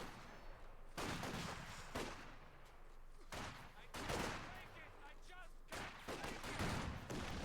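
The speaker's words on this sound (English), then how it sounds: "Apparently he was firing armor-piercing rounds" Gunfire from armor-piercing rounds in the World War II strategy game Company of Heroes 2, a series of loud, sharp bursts and booms in a battle with other fire around them.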